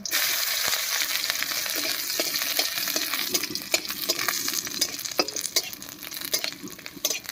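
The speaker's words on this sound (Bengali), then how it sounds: "কড়াইয়ে সর্ষের তেল দিয়ে শুকনো লঙ্কা আর কয়েক রসুন ভেজে নেব" Dry red chillies and garlic fry in mustard oil in a wok, a close, steady crackling sizzle broken by regular scraping strokes of a spatula, with no voices.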